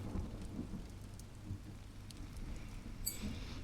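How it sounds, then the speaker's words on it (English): Steady rain falls outside a home, a constant soft hiss with a low rumble underneath and a brief sharper patter near the end, with no voices. "It's raining today"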